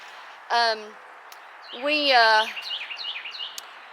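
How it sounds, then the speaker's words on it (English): A wild bird calls outdoors in spring, two short clear chirps followed by a string of quicker faint twitters, heard at a moderate distance in a quiet yard. "Hey, that's a wild bird."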